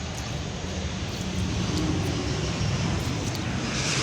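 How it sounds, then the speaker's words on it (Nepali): Airplane flying overhead near an airport in Kathmandu, a steady broad roar that swells slightly in the second half and holds loud throughout, with no talk. "यहाँ चाहिँ प्लेन पनि यहीँबाट उडिरहेको जस्तो लागिरहेको,"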